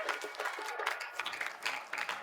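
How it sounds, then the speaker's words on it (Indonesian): A studio audience claps for three judges on an Indonesian comedy show, a moderate, fairly close patter of applause sustained for a couple of seconds. "Boleh tepuk tangan buat ketiga juri kita?"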